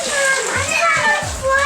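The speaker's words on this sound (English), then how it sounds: "We're gonna pour this in here." Freshly brewed wort for an all-grain IPA clone pours into a gallon-size strainer bag, giving a steady rushing splash of liquid with a voice talking over it.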